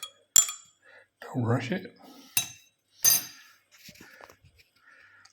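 A metal spoon clinks against a cup while stirring tea, with a few bright separate taps mixed among brief speech.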